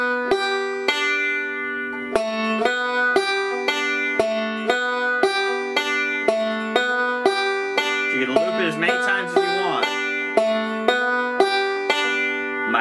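Banjo slide practice phrase on open strings, with the thumb on the open fifth string and the open first string: a steady, rhythmic picking pattern of bright plucked notes with a slide in the middle, close and alone.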